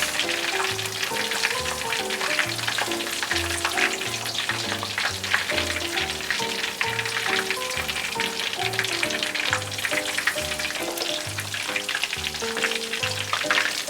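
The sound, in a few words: deep-frying tonkatsu pork cutlets in oil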